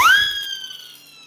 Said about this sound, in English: That's my siren whistle.